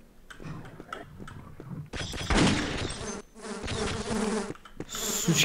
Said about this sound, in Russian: Сучки эти мухи.